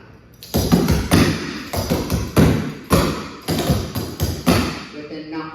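Tap dance shoes strike the floor in a quick run of sharp taps and heavier knocks, about a dozen close, loud hits in uneven rhythm, stepping through a double slap and knock routine.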